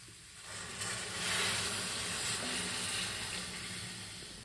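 Boiled milk poured into grated carrots frying for gajar halwa gives a soft, continuous hiss and sizzle that swells briefly then settles, close and fairly quiet with no talking.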